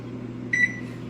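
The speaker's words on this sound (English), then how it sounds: "I'm going to just go turn my oven on to 325" A kitchen oven being set to 325 degrees gives a single short, bright electronic beep over a steady low appliance hum.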